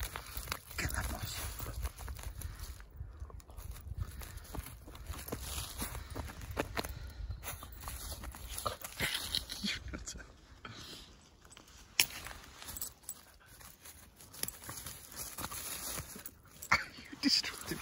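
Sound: Bedlington whippet dogs tearing up moss

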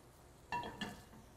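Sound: rubber spatula scraping pan to deglaze

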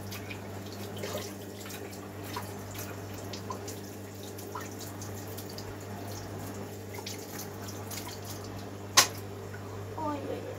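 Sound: water running from a tap

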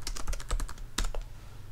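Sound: typing a password on a computer keyboard

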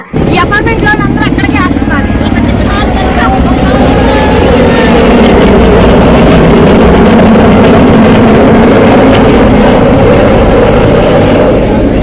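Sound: helicopters flying overhead dropping food supplies

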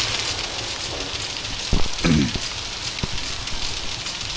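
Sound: rain falling in Outlast video game

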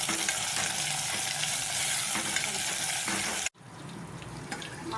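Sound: ivy gourd and green chillies frying in a pan

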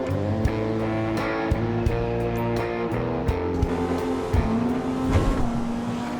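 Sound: custom JDM car engine in video game GTA V Online

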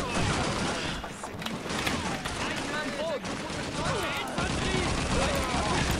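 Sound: gunfire from a weapon in the video game Call of Duty 2

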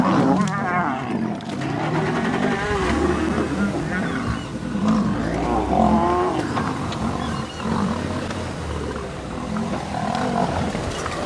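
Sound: lions roaring while fighting

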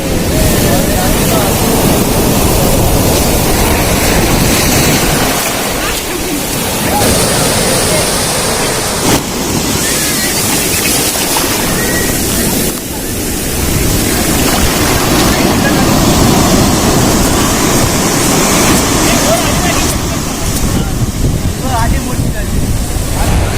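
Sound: ocean waves breaking on beach

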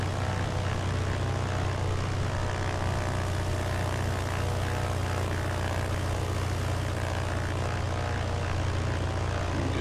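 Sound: BN-2A Trislander propeller engine running in Microsoft Flight Simulator video game

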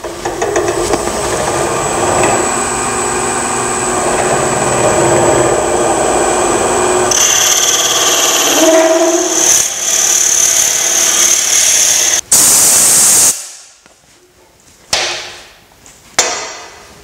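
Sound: woodturning pepper mill drilling and sanding on a lathe

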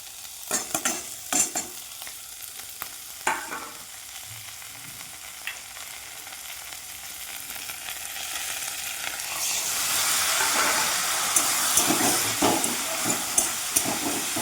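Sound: frying fish curry with ginger and chili powder

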